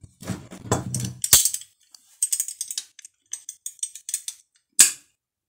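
Locking pliers clamp onto a metal part before welding, producing a few loud, sharp metallic snaps along with lighter clicks and rattles of handling, close up with no talking.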